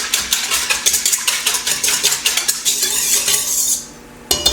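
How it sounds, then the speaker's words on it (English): A whisk rapidly clinks and scrapes against a bowl as ingredients for dinner rolls are mixed, giving quick, loud, regular strokes that stop near the end before one final clink. "so I'm just going to whisk all this together."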